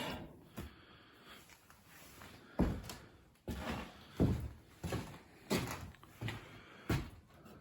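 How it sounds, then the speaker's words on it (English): A homemade latch on the door of a maple sugar evaporator is worked several times, giving a series of sharp metallic clacks and thumps with quiet gaps between them and no talk. "It's my homemade door latch that I made for my evaporator."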